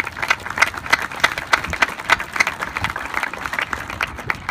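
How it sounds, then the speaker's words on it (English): An audience at a Sioux Falls rail yard purchase signing ceremony gives a round of applause: a steady patter of many hands clapping, moderately loud and sustained for several seconds, with no talk over it. "Let's give him a round of applause."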